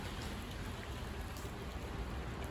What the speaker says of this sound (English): A lot of rain going on here.